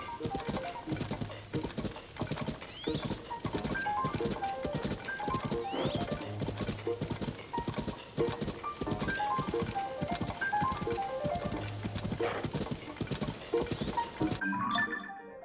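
A horse gallops in Zelda: Tears of the Kingdom with dense rapid hoofbeats throughout, along with occasional whinnies and game sounds, stopping abruptly at the end.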